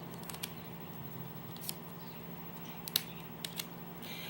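Scissors snipping through a thin plastic ramen bowl, several faint, scattered sharp clicks over a low steady hum.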